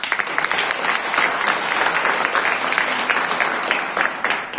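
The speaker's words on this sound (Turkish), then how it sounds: "bir alkış alabilir miyim" A crowd bursts into loud, sustained applause at a Naturalis network marketing distributor training, many hands clapping densely and evenly for several seconds.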